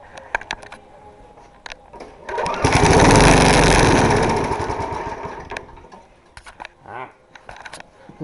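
Small gasoline engine of a worn snowblower or lawn mower, primed and pull-started, bursts into a loud buzzing run for a few seconds before winding down, with scattered clicks and handling noises around it.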